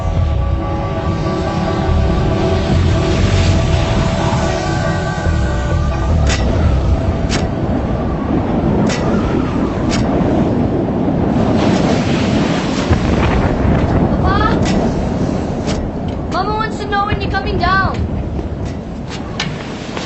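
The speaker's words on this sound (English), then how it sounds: "A series of booms could be heard hundreds of miles away." Krakatau volcanic eruption booms rolling like heavy thunder amid gusting wind, a dense continuous roar with scattered sharper cracks and some voices toward the end.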